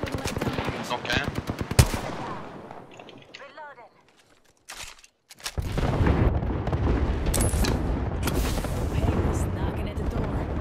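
Gunfire in the battle royale shooter Apex Legends, with rapid weapon bursts, a brief lull, then dense, sustained shooting and booming impacts, loud and close.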